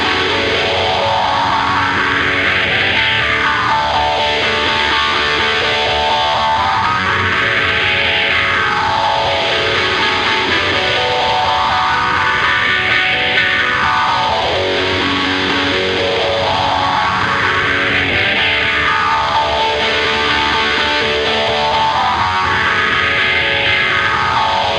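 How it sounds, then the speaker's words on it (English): Electric guitar on an overdrive distortion patch, pedal knob set between 10 and 11 o'clock: a thick, sustained distorted wash with slow sweeping swells, steady and loud for the whole stretch. "I'm switching over to patch B with the overdrive distortion,"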